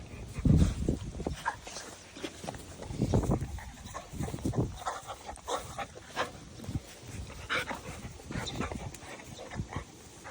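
Dogs whimpering and barking in a garden: short, close yelps and barks recur irregularly over about ten seconds, with a few softer whines between them.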